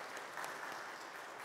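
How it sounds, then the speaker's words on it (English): A church congregation at Sunday Mass claps for an altar boy in a brief, faint, dense patter of many hands, steady for about a second and a half with no talk. "So give Joe Zito a applause"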